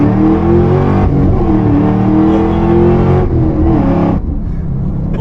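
A 5th-gen Chevrolet Camaro ZL1 with its supercharged LSA V8 launches hard from launch control, a loud, sustained engine roar heard from inside the car, its pitch rising and dipping with gear changes and no talking.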